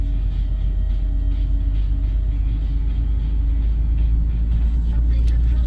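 An RV engine on cruise control revving from idle toward higher rpm while driving, a loud steady low rumble with road noise throughout.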